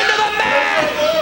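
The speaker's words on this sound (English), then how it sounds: "Crowd is rallying behind the Weaver Cup Tournament champion" Crowd cheering and roaring at a 1987 CWF Mid-Atlantic professional wrestling match after a pin, a steady, dense wall of arena noise throughout.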